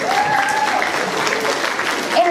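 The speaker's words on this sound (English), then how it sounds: "Give Michael a round of applause." Loud, close applause fills a 6th grade promotion ceremony, a steady crowd of clapping hands lasting throughout, with a voice speaking briefly over it.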